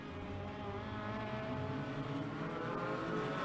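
Midget race cars run hot laps on a dirt oval, a continuous loud engine drone that swells slightly as the cars pass, with no voices over it.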